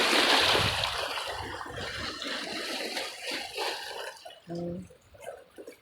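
Sea waves at Joroan, Tiwi, Albay wash and splash against rocks up close in repeated surges, with a brief tonal sound near the end.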